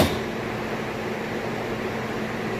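Steady whirring hum of a Maytag washing machine drum spinning fast and evenly, a constant broadband mechanical drone with no voices.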